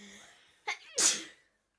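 A single sharp human sneeze with a brief inhaled catch just before, close and loud against near silence, fading quickly.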